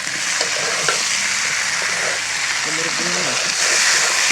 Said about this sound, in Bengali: তেল দিয়ে ভালোভাবে কষাতে হবে ভাজতে হবে